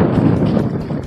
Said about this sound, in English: Yeah, out here in the open, it's gonna be windy.